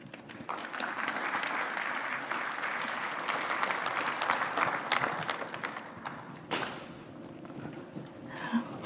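Warm audience applause at a conference session on ataxia rehabilitation, a sustained round of clapping for about six seconds that fades, followed by a few scattered claps and faint footsteps.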